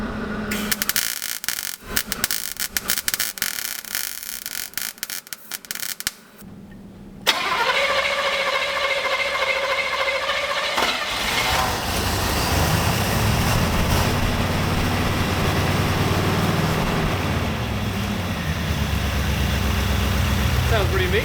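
A V8 engine in a Buick LeSabre left sitting for 34 years cranks and fires after a stretch of noisy clatter, then settles into a steady, rumbling idle that holds to the end, with voices faintly around it.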